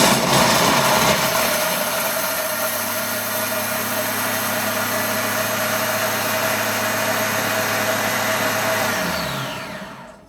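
A food processor blends chocolate at speed 10, running as a loud, steady motor whir with a grinding, rattling edge for about ten seconds, then winding down and stopping.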